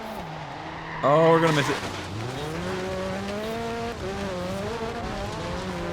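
Race cars in Forza Horizon 3, including a lime green Lancia, roar past with a loud burst of engine and squealing tires, then settle into a steady rising engine drone while someone talks over it.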